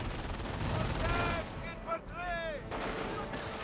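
Sniper fire and other gunfire in a Company of Heroes 1 battle, a dense cluttered mix of shots and explosions with a brief dip near the middle, while a voice talks over it.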